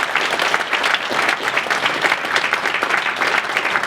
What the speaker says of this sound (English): all the footballers and ex-footballers deserve a massive round of applause